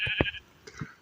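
Sheep bleat inside a survival video game: one short, clear bleat, then a second fainter call about half a second later, with no talking.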